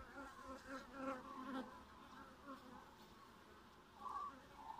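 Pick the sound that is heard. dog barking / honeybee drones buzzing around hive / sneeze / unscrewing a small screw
honeybee drones buzzing around hive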